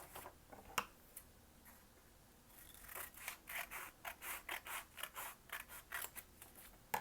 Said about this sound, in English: So I'm going to cut off the smaller piece.